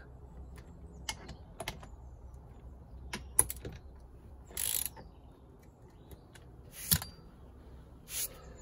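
A ratchet tightens bolts on a fence post in short, separate bursts of quick clicking, close by and fairly quiet, with pauses between strokes and no speech.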